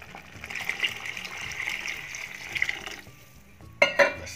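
Water poured into simmering chana kadhi in a pot on the stove, a steady hissing gush and bubbling stir for about three seconds, ending with a brief louder splash and clatter.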